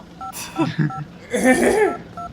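Phone keypad tones from the Silent Hill: Shattered Memories video game: a few short dialing beeps spread over two seconds, with a voice talking over the middle.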